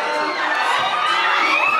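Fans screaming and cheering at the premiere night of Etiquette for Mistresses, a loud, close wall of high-pitched shrieks and shouts, sustained throughout.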